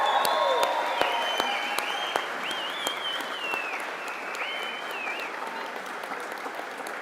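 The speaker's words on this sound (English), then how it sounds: "Let's give them a round of applause." A crowd at the Central Lakes College Brainerd campus registered nursing commencement breaks into sustained applause, with high whistles and cheers rising over the steady clapping, heard from a distance in a large hall.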